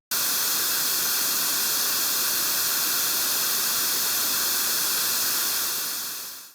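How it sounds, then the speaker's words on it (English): A steady broadband white noise test signal plays as an even, loud hiss for about six seconds before fading at the end, with no talk. "And finally, white noise, which is a mix of all audible frequencies."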